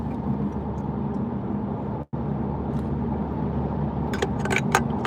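Honda Civic Type R cabin while driving, with a steady low road and engine hum throughout, a brief dropout near the middle, and a few light clicks or jingles toward the end; no talking.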